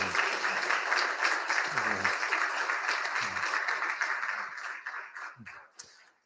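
An audience at an Edmund Fitzgerald memorial ceremony applauds with sustained clapping that gradually thins out and fades, with a few voices and cheers mixed in.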